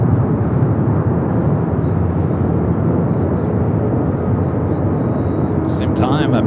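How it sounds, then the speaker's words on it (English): American Airlines Dreamliner touching down on runway 24 right at Los Angeles, arriving from Tokyo Haneda: a steady, loud, broad jet roar filling the whole stretch without a break. "American Dreamliner coming in from Tokyo Haneda, touching down to 24 right"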